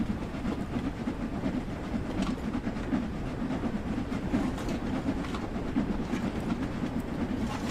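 A steam locomotive in Train Sim World 2 climbs uphill and slowly accelerates, a steady rumbling rail roar with rhythmic chuffing and wheel clatter, loud and continuous with no speech.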